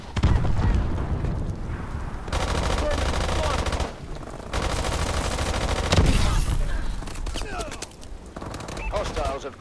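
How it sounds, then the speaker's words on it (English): Missile strike explosions and heavy gunfire in Call of Duty Advanced Warfare, a Hardpoint match on the Parliament map: dense, loud bursts of shots and booms that cut in and out over about ten seconds. "Enemy missile strikes incoming."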